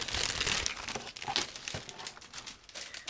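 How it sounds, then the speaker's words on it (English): Crinkling and crumpling of a resealable plastic bag holding a 1/35 scale ICM AH-1G Cobra model kit as it is opened, close and continuous with sharper rustles partway through. "So it's a resealable plastic bag, and just give me a second to open it."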